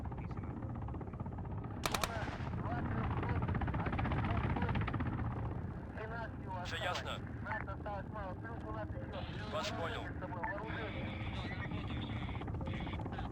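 Mi-28 attack helicopters in Arma 3 combat, a steady rotor drone with bursts of heavy gunfire cutting through near and loud, continuous throughout with chattering fire layered over the engine noise.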